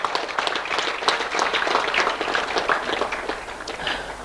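An audience at a cricket charity event in Rajkot gives dignitaries sustained, dense applause, a steady wash of many hands clapping close by.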